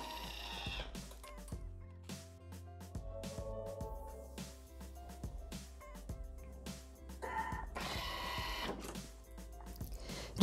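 A Thermomix kitchen robot's motor whirs and grinds steadily for about ten seconds at speed 7, chopping chocolate with rattling, clattering bursts. No one speaks.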